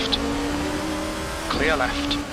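A race car in Assetto Corsa during a four-hour Daytona event, a steady engine tone holding at constant pitch while another car's engine rises and sweeps past briefly, with someone talking over it.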